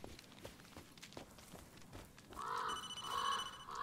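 In the Blair Witch horror video game, a phone begins ringing with a bright, warbling electronic tone about two-thirds through, after footsteps crunch along, loud and close over faint ambient noise.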